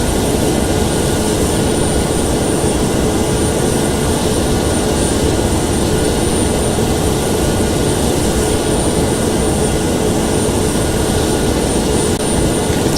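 Boeing 767 jet engines in Flight Simulator X, a loud, constant roaring whine with a thin steady high tone, droning evenly and close throughout with no voices.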